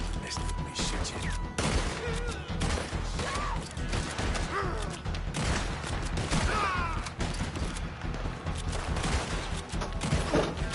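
Gunfire rings out in Red Dead Redemption 2, a dense fusillade of shots and crashing impacts scattered throughout, loud and busy amid game sounds and voices talking.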